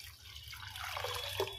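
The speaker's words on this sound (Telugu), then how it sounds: "ఇదిగోండి దీంతో దీన్ని నీళ్ళు వేస్తున్నాను." Water runs into a cooking pot for boiling chana dal, a short, quiet, close trickle and splash that ends in a small drip.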